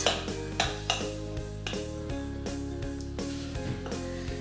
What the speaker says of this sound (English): now we're gonna mix it with the spoon